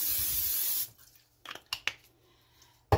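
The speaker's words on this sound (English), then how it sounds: "I'm going to spray the bottom of my air fryer with some spray vegetable oil." A steady hiss of aerosol vegetable oil sprayed into an air fryer basket for nearly a second, then quiet with a few faint clicks and taps of handling afterward.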